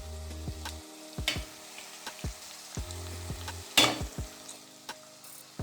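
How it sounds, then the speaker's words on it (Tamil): Curry with turkey berry and okra bubbles and sizzles in a pan, with intermittent pops and spatters over a low simmering hiss. "கொதிக்க ஆரம்பிச்சிருச்சு."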